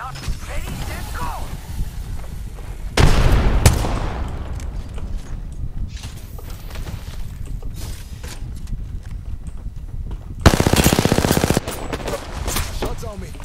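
Rapid gunfire from a shooter video game, with loud bursts of automatic fire around three to four seconds and again near eleven seconds over a busy background of game sounds, while players talk throughout.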